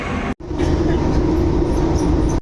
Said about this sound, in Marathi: तुम्ही बघू शकतात लोकल आलेली आहे.